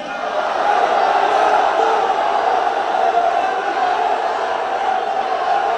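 A large crowd packed into a hall at a protest rally in Nouakchott chants and shouts together, a loud, dense, continuous roar of voices that holds steady throughout.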